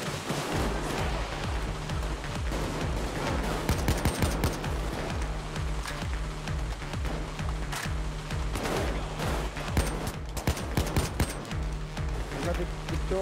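Rapid bursts of automatic gunfire from the heist shooter game Payday 2 on PS4 crackle steadily and loudly throughout, with players talking over the continuous shooting.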